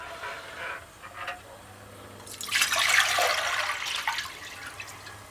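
Two quarts of water poured into a cooking pot for mac and cheese, a steady splashing, gushing rush that swells loudly midway and then tapers, with no talk over it.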